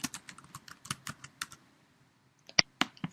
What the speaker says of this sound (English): Okay, so I will type in